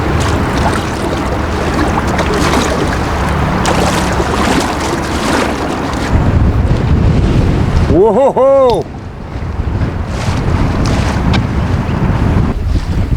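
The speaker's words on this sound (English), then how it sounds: "So it's very windy today." Strong wind buffets the microphone with a constant roaring rush on a boat off Vancouver Island, water and boat noise underneath, and someone briefly exclaims partway through.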